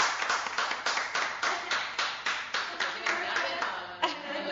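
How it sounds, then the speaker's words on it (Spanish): Students in a classroom clapping for a classmate, a fairly regular run of claps in quick succession, close and moderately loud, with a voice briefly heard near the end. "Bravo, aplauso por favor, chicos"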